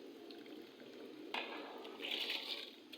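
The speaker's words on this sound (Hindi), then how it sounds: "तो इस तरीके से मैंने इसके अंदर चावल डाल दिए हैं।" Soaked rice goes into a pot of boiling water, with soft bubbling and sizzling and a brief splash and stir, faint and close.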